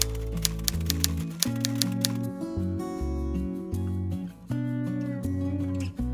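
Fingers type a text prompt on a keyboard: a rapid run of crisp key clicks at the start, then sparser taps over steady tonal background music.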